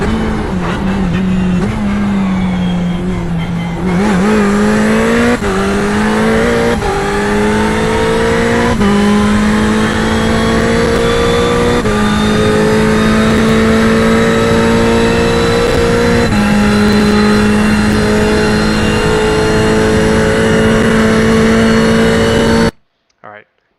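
Race car lapping VIR, a loud close engine drone from the cockpit that rises steadily in pitch through the gears, with one clear shift early on, then holds high and cuts off at the end.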